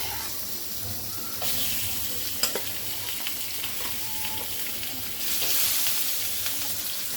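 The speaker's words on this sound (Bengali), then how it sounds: "এবার আমরা মাছগুলো ভেজে নিব" Pieces of katla fish frying in hot oil in a karai wok give a steady, close, bright sizzle that swells slightly toward the end, with a few faint clinks.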